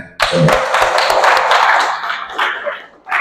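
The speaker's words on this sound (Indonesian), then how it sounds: "Kasih tepuk tangan untuk kita." A small group claps together after a breathing exercise in a classroom session, a short burst of close, uneven clapping that thins out and then stops.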